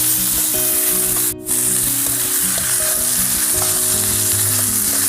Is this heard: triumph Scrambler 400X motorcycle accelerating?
no